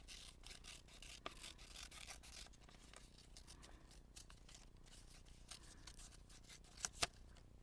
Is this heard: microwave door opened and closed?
no